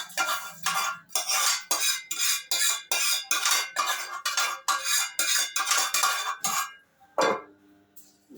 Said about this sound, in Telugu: ఇప్పుడు దీనిలో మనము పెట్టిన పోపుని ఈ విధంగా వేసేస్తున్నాం.